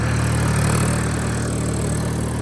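Mahindra tractor engine held at a steady high rev, a loud, continuous drone with a strong low harmonic hum, close by and unbroken, no voices.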